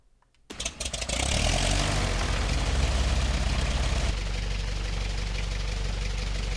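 Aircraft engine idling at a Roblox airport tycoon game airport, a steady loud broadband drone that starts abruptly after a brief quiet moment and holds evenly throughout, with no talk.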